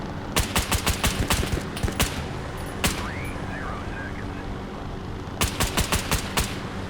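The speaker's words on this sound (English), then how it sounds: "we did some good shooting there" Bursts of gunfire in the shooter game Operator: Tier 1 at night, sharp close shots fired in quick volleys of four to eight, with a lone shot in between and a pause before a final rapid string.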